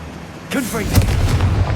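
The Confringo blasting spell cast in Hogwarts Legacy, a sharp burst and booming explosion that rings on briefly, heard right after a spoken incantation.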